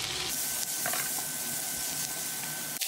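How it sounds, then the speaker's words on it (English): Onions fry in hot oil for beef fried rice, a continuous close hiss and sizzle with faint crackles and no speech. "Add oil, and now we're gonna fry some onions."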